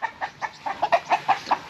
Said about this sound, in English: You're a fucking rooster!